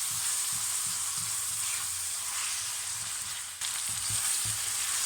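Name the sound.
garam masala spices frying in a pan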